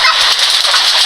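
Chickens caught in a flooding area, with several birds and rushing water nearby; a dense, bright, continuous fowl sound fills the whole short moment at a loud, steady level, with no talk.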